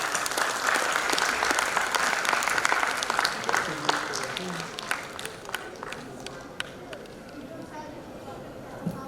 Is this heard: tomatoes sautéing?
no